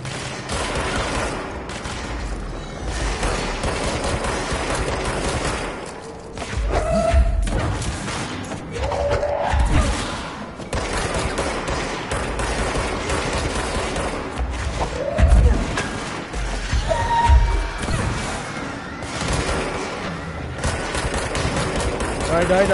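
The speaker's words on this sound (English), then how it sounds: "Stop shooting missiles!" Enemies firing missiles in the video game Control: continuous loud combat with rapid gunfire, thuds and explosive booms, while a voice shouts over the din.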